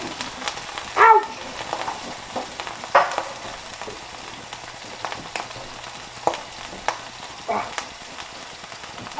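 Beef fries in a non-stick pan with a soft, continuous sizzle, broken by scattered louder pops and spatters, close by and fairly quiet.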